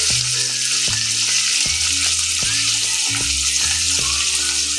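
Mustard seeds, cumin, onion and tomato sizzle in butter in a pan for a tawa pulao, a steady loud frying hiss with repeated clinks and scraping from stirring, no talking.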